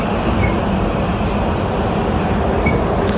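Metro train riding underground, a loud continuous rumble of wheels and carriage with faint clickety-clack and a brief squeal near the end.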